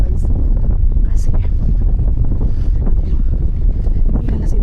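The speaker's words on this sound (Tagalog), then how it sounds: "lakas ng hangin, lumilipad talaga yung aking buhok" Strong wind on a mangrove walkway in Pansol, Lopez, Quezon, roaring steadily and loudly across the microphone, with a faint voice partly buried in the gusts.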